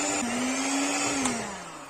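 An electric mixer whirs through almond flour cake batter for apple-almond moist cake, a steady motor drone whose pitch rises quickly at the start, holds, then sags slightly near the end, with no talking.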